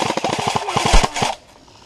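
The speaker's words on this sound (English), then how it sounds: "When they get right about here, just start shooting." Rapid burst of airsoft gunfire during a field game, with a fast string of sharp clicking shots close by for over a second before stopping abruptly into near quiet.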